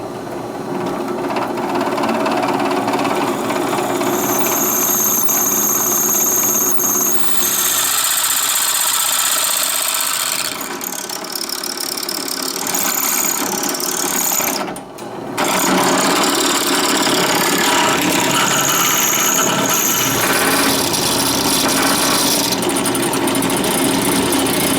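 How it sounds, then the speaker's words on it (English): A power drill bores holes through a steel impact socket, grinding in a steady, loud, continuous drone with a high-pitched whine and a brief dip partway through. "Well, I successfully got the holes drilled in my impact socket here"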